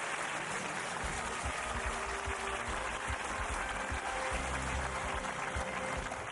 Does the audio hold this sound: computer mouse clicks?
no